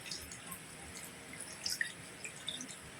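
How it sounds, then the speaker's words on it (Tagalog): Small water drips and light trickles as a little water is poured into a cooking pot of fish paksiw, faint against a steady background hiss, with a few brief splashy bursts. "Lagyan ng kunting tubig, guys."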